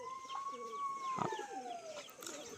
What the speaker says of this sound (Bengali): দেখুন আমার বাড়ির পায়রা